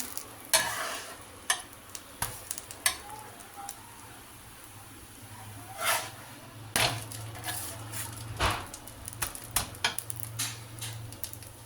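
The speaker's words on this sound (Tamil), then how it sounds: "உருளைக்கிழங்கு ஸ்டஃப் பண்ண தோசை. 2 தோசை. நல்லா செவக்கணும்." A potato-stuffed dosa cooking on a hot griddle, a soft continuous sizzle broken by repeated sharp scraping and tapping strokes at an uneven rhythm, close and moderately loud with no talking.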